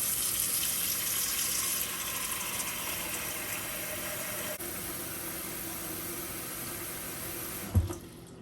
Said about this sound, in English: first I'm gonna start by adding some water to my pot